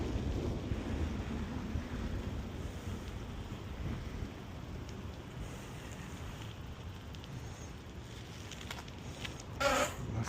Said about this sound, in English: I think I got the wind at my back